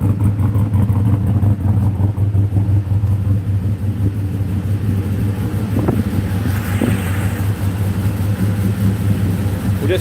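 A turbocharged LS1 V8 car engine idles while warming up, a loud, steady, deep rumble with a faint lumpy pulse and some wind buffeting on the microphone.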